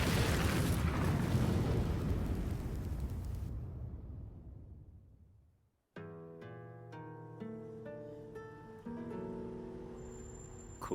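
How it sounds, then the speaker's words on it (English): A loud explosion in a Tekken 7 cutscene at the Mishima estate, a dense roaring blast that slowly fades away, then gives way to a musical score with sharp struck notes. "It all started with an explosion in the heart of the Mishima estate."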